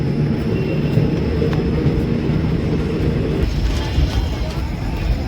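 Gomti Sagar Express 16094 rolling along the track near a junction station, a steady loud low rumble with rattling that holds constant throughout, voices faintly mixed under the noise.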